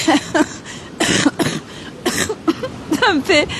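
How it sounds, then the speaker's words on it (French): Several short, harsh coughs come in quick bursts, close and fairly loud, with a bit of voiced sound mixed in between them. "Ça me fait tousser."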